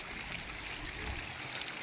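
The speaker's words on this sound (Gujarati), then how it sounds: "જોઈ શકો છો મિત્રો, વરસાદ ચાલુ છે" Rain falling outdoors with runoff water flowing; a faint, steady, even wash of noise throughout, with no voices.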